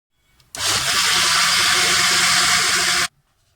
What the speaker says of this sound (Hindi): अब मैं इसका एक फाइन सा पेस्ट बना लेती हूँ।